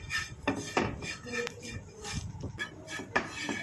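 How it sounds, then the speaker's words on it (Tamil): A spoon scraping and stirring powder as it dry-fries in a pan on the stove, with repeated irregular metallic scrapes and knocks against the pan over a steady low background. "நல்லா இந்த மாதிரி கலந்து விட்டுக்கிட்டே இருக்கலாம்."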